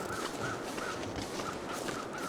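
Crows caw in the snowy wilderness of the video game The Long Dark, several harsh repeated calls at a steady rhythm, moderately distant, over a constant windy background.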